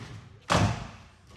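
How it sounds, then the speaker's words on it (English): A single solid thud as the bonnet of a restored Jaguar E-Type is opened, loud and close, followed by a brief fading decay over quiet background. "If we open the bonnet, we show you what's going on"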